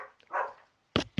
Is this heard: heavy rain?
no